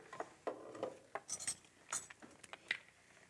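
Metal kitchenware clanks and scrapes as a pan is shifted about, a series of irregular clinks and knocks at close range.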